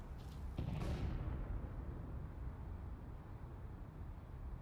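In a Counter-Strike match, a loud burst of grenade explosion noise in the first second fades into low rumbling ambience, with no clear talk.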